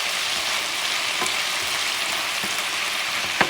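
Mixed vegetables with carrots stir-fry in a hot pan, giving a loud, even sizzle throughout with a few brief scraping taps.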